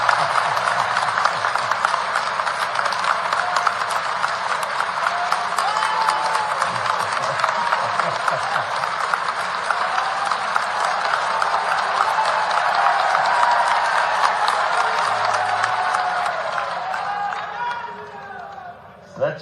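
A large audience at a panchayat secretaries' conference in Bhopal claps loudly and continuously, with some cheering and crowd noise mixed in, before the applause tapers off at the end.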